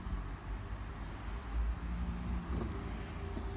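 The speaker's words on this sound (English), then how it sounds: "And then the hardtop does start retracting" A white 2015 BMW Z4 sDrive20i M Sport convertible's hardtop retracting, a faint, steady electric motor whine over a low rumble, with a soft mechanical clunk partway through.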